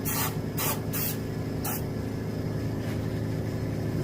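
Several short hissing bursts of spray from a spray can, close and loud, over a continuous mechanical hum, while finishing a mounted striped bass.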